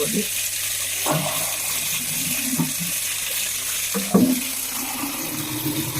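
Water flows steadily from a borewell pipe as a continuous, close rush, with a few brief knocks and splashes and faint talk partly audible beneath it.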